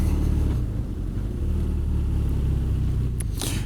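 A 2017 BMW R nineT Scrambler with its 1170 cc engine rumbles on a road test ride, a deep steady low drone with wind buffeting and a brief rise near the end.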